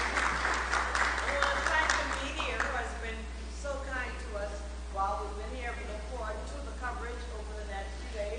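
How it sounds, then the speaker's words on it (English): Audience applause at a public town meeting in Freeport, Grand Bahama, a steady wash of clapping that is strongest early on and fades as a voice keeps talking over it. "Let's give our moderator a round of applause."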